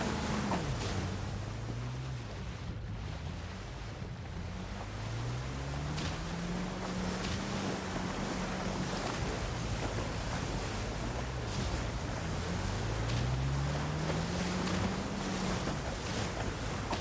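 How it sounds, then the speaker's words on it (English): A motorboat powers across open sea in Uncharted 4, its engine droning and rising and falling in pitch as it turns, with constant loud wave wash and wind rushing around it. "I'm whipping this boat around like it's a freaking Maserati."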